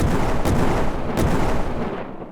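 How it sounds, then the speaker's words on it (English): A loud, close explosion sound effect with a heavy, rumbling boom that swells and holds before fading at the end, with no voices over it. "Okay, not that type of explosion."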